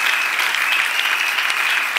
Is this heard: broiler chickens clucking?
no